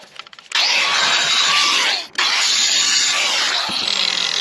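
Power drill deburring a freshly drilled hole in steel for a trailer jack, a loud continuous grinding whir with one brief pause before it resumes and runs to the end.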